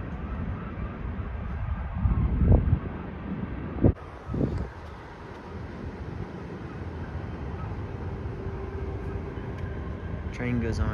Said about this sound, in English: Train goes on for miles.